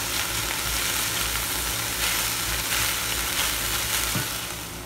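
Freshly ground meat browning in a hot pan, a loud, steady crackling sizzle with soft stirring scrapes running through the whole stretch.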